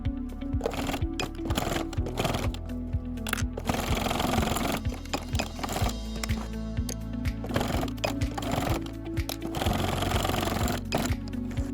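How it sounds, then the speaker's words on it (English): Sewing machine stitching down the side edges of a fabric AirPods case, a steady rapid mechanical whirring chatter with brief pauses and restarts, close and continuous throughout. "Sew down both side edges following the top stitching lines to create the pocket shape."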